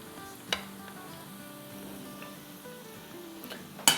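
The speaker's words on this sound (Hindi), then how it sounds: "झटपट ये फ्राई भी हो जाते हैं" Cabbage and mixed-vegetable pakoras fry in hot oil, giving a soft continuous sizzle with a few clinks of a utensil against the pan, fairly quiet and with no talk.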